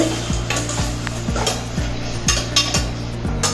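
Tomatoes frying in a pan for mutton curry while a spoon stirs them, scraping and clinking against the metal about twice a second in a steady rhythm over a low sizzle, close and clear.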